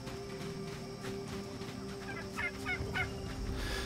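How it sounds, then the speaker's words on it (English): Turkeys in the survival game Soulmask gobble in quick rippling bursts, several calls close together over a steady low outdoor ambience, with no talking. "Turkeys, sure. I've already seen enough turkeys."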